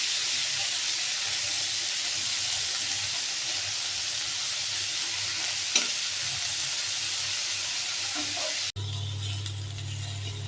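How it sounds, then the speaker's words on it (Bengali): Prawns fry in hot oil in a pan, giving a steady close sizzle with a few stirring clinks, briefly interrupted near the end. "চিংড়ি মাছ দিয়ে দিচ্ছি। লাল করে ভেজে নেব।"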